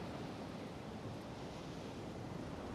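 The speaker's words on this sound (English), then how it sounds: "The pools closer to the ocean get filled with water when a high wave comes in." Ocean waves wash in over rocks along a calm shore at evening tide, a soft continuous surf hiss, faint and distant, with no voices.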